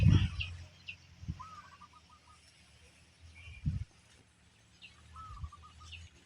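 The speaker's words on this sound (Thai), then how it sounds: "ไก่ถึกสีดำกับไก่แม่สีดำ" Black chickens, a rooster and a hen, cluck softly now and then, faint and at some distance, with a few low thuds and a quiet outdoor background during rice drying season.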